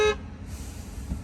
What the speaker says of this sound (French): pourquoi ça klaxonne?